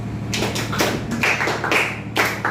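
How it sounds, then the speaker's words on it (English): Students clapping for themselves in a classroom lesson in Ibadan, a short ragged burst of claps over a steady low hum, with no talk. "Clap for yourself."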